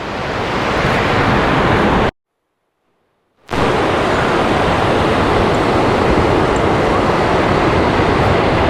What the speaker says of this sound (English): Thunderous sound of waterfall.